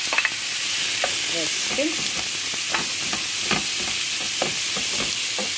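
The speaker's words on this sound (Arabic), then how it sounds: "دابا من بعد ما طيحنا هاد البصيله كنديروا الكفته ديالنا هكا" Minced kefta meat frying with softened onions in a pan for a lasagna, giving a steady broadband sizzle with intermittent stirring scrapes and clicks, close and continuous throughout, with a brief voice near the end.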